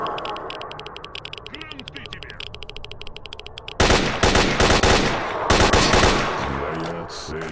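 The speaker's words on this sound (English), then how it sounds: "Stop misfiring, you crappy weapon." Weapon fire in the video game S.T.A.L.K.E.R. Shadow of Chernobyl, with sharp rapid gunshot bursts breaking in loudly midway over earlier fainter ambience and clicking, with further shots and game voices around them.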